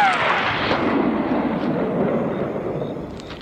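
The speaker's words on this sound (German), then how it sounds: "Da wird plötzlich auf ihn geschossen." A single loud gunshot bursts out and rolls away in a long, fading echo, a sound effect of shots fired at James Bond in a Goldfinger radio drama.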